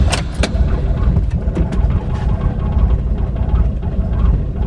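A Mitsubishi Lancer Evolution IX running E85 on large 1200 cc injectors idles roughly on a cold start, a close, steady, loud engine drone with uneven pulses, heard alone without talk.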